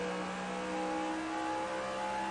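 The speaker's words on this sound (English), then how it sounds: "Listen to the throttle control. Blip, blip, blip, blip, down." Winston Cup stock car engine on a track at Pike's Peak during a race: a steady, loud, droning engine note with small shifts in throttle, close and continuous throughout.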